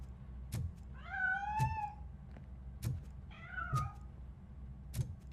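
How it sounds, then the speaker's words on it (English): In the video game RoboCop: Rogue City, a cat gives two drawn-out, wavering meows close by, with soft thumps and knocks scattered around them in an otherwise quiet space. "That cat must be hiding inside."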